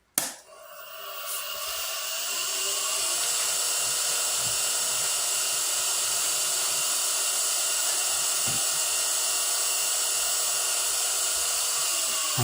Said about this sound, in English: So we sand that lightly.